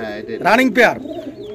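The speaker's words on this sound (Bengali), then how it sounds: "এটা হচ্ছে চুইঠাল এবং পাথর চোখের কবুতর, মানে সাপ চোখের কবুতর" A pair of domestic fancy snake-eye pigeons coo nearby in two rising, throaty bursts, while someone talks over them.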